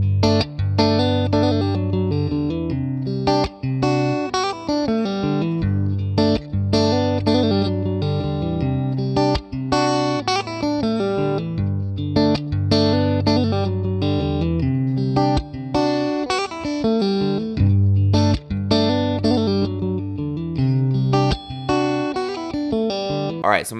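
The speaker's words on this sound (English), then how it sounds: "So I'm going to play a Strat. It's my Lake Placid Blues Strat. These are Lindy Fralin Blues Special pickups through the Fender Deluxe Reverb." Fender Stratocaster, a Lake Placid Blue Strat with Lindy Fralin Blues Special pickups, played through a vintage Fender Deluxe Reverb amp: loud, clean electric guitar phrases with plucked chords and single notes ringing into reverb, steady and close.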